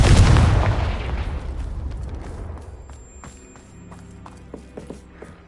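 A single loud blasting-spell explosion in the Hogwarts Legacy video game, booming at once and then fading into rumbling debris and scattered clicks and clatter, near a Thestral nest.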